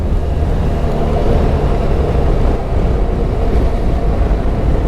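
Benelli TRK 500 adventure motorcycle pulling hard in 4th gear through a bend, a steady engine drone blended with heavy wind rush, loud and continuous.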